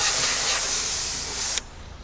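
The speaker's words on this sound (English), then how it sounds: "once you start spraying it and the blades start to spin" Cleaner sprayed inside a kitchen exhaust hood fan, a loud continuous hiss at close range that stops abruptly near the end, leaving a faint background hum.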